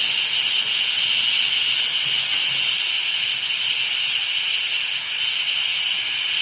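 An Instant Pot pressure cooker vents steam in a loud, steady, unbroken hiss that continues at close range for several seconds with no voices.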